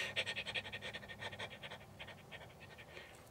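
A voice mimics heavy panting after a hard uphill sprint in a solo mountain bike race, a quick rhythmic series of breathy gasps that slowly loosen and fade.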